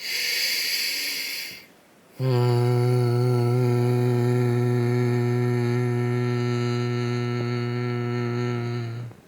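A sharp breath is drawn in, then a long, steady, buzzing hum is voiced through closed lips, imitating a bee, held loud and close for several seconds.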